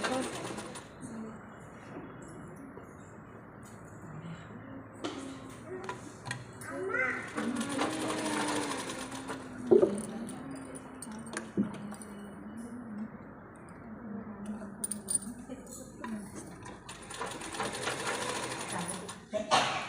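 Sewing machine running steadily while stitching thread piping onto a garment with a normal presser foot, a quiet continuous whirring with small starts and stops, someone speaking over it throughout.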